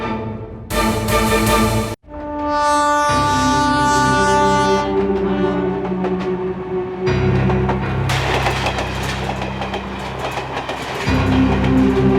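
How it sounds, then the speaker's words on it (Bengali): A train bound for Mumbai runs on its rails with a loud, close rumble and clatter, broken by long sustained horn blasts that ring out over the steady rolling noise. "বাড়িতে না বলে আমি মুম্বাইয়ে ট্রেনে বসে পড়লাম"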